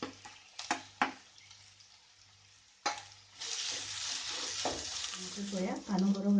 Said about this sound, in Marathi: कांदो हांगासर आमकां बरो भाजून घेवपाक जाय।